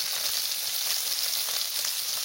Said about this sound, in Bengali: ভাজা করে দিচ্ছি।